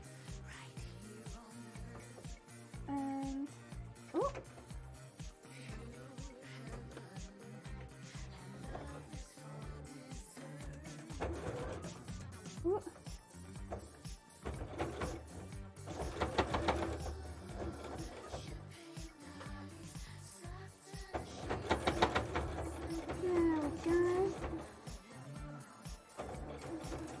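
Sewing machine stitching through thick fabric for a costume bra, a close rapid mechanical chatter running in bursts and pauses with a few louder, faster runs.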